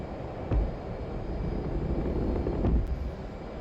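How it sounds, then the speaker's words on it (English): F/A-18C jet engines spool up in the DCS flight simulator, a steady, loud roaring whine broken by a couple of low thumps. "go ahead and spool up them engines"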